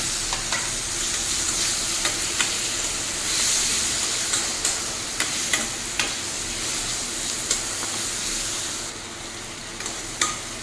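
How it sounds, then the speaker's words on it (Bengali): Chopped tomato frying with ground spices in oil for a fish-head and snake-gourd dish, a continuous close sizzle broken by regular clinks and scrapes of a spatula stirring, with no talk. "আর এখন দিয়ে দেব কেটে রাখা টমেটোটা"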